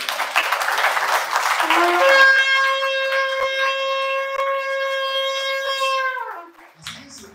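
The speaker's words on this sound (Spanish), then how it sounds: "Damos un aplauso a nuestro Señor" A church congregation at a prayer school applauds, dense clapping for about two seconds before a sustained sung or keyboard tone takes over and holds, then fades into soft movement.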